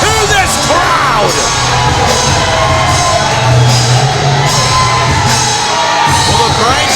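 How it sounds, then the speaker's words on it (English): A wrestling event crowd roars continuously and loudly, with yells, whoops and cheers layered over dense arena noise for the whole stretch. "Listen to this crowd."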